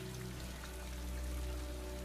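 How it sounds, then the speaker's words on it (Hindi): Heavy rain pours down in a dense, steady hiss that fills the scene, with a low rumble underneath and no voices. "तेज बारिश हुई थी।"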